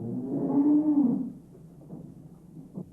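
A cow gives one loud, drawn-out moo in the first second and a half, followed by quieter low shuffling and faint noises with no speech.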